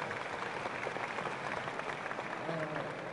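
An audience claps together at a political talk event, a steady, dense patter of applause spread evenly and held at a moderate distance under a faint background murmur.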